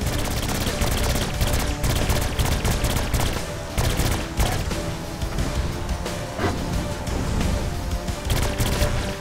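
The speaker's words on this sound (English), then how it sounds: "this alien SMG is pretty cool" Alien SMG firing in Saints Row IV co-op play: dense, continuous rapid gunfire pounds loudly for the whole stretch, with rattling bursts layered over heavy action noise.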